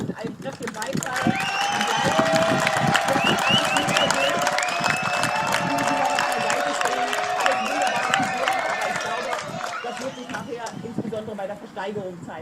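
Audience at a chainsaw art event in Gotha, Thuringia, gives sustained applause and cheering, a loud dense crowd of clapping with whoops and whistles that tapers off near the end.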